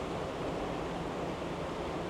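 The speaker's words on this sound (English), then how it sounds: "And we're looking at the infinite waves." Ocean waves rolling beneath the deck of a Disney Fantasy cruise ship on a day at sea, a steady broadband wash of surf mixed with wind rush, continuous and fairly faint with no talk.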